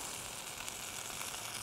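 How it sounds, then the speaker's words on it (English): A chicken parmesan sandwich topped with tomato sauce and fresh mozzarella sizzles steadily in a pan over low heat, a soft continuous frying hiss with no talk. "That's sizzling away."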